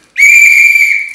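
A single loud, steady whistle blast starts abruptly and holds for about a second before tapering slightly, clear and alone with no talk over it.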